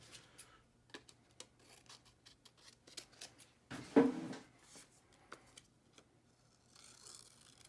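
Scissors snip repeatedly through paper while a cubist collage is assembled, the crisp close cuts arriving in an irregular rhythm with a few brief pauses and one louder rustle midway.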